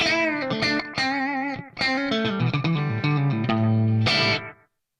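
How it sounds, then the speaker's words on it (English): Electric guitar through an Axe Fx III Carbon Copy delay model set for slapback echo, distorted phrases and sustained notes each followed by a short repeat, ending on a held chord that cuts off. "Channel C uses a model of the carbon copy for slapback echo."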